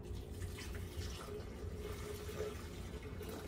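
Liquid poured straight into a glass TriBest DynaBlend blender jar, a steady, soft splashing trickle that runs unbroken throughout and stays fairly faint.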